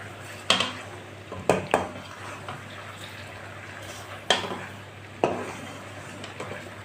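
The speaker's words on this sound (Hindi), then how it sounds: "ऐसे इसे मिक्स करते हुए पका लेंगे।" Apple murabba simmering in a pan is stirred, with a few sharp spoon-on-pan clinks and scrapes over a steady low bubbling hum, close and fairly quiet.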